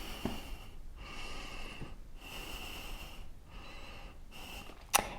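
Slow, deep breaths during a hip-opening yoga pose: about four audible inhale-exhale cycles with a soft, airy hiss, close to the mic, ending with a brief sharper breath.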